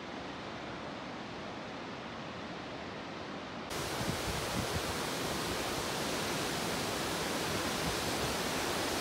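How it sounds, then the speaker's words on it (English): Waterfall in the Fryatt valley, a dense continuous roar of falling water that grows louder and brighter partway through, steady and close with no voices. "Such an awesome wicked waterfall."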